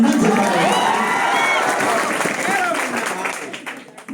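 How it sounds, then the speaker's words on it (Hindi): Audience clapping and cheering at a live event in India, a dense burst of applause that swells early and gradually thins out, mixed with crowd voices. "अगर आप लोग इतना सुनकर अगर ताली बजा दो"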